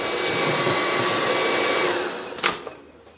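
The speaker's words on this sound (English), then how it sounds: "I can also turn the brush roller off and just vacuum." A Hoover ONEPWR Evolve Pet Elite cordless upright vacuum runs with a steady, loud broadband whir for about two seconds, then winds down with a brief clack and fades as it shuts off.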